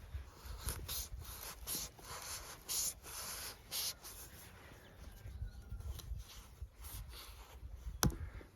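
A Haidamak knife by Prosta Stal cuts repeatedly through material, giving close, soft scraping and rasping strokes in an irregular rhythm, with a sharp click near the end.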